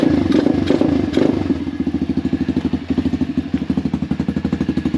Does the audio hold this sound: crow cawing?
no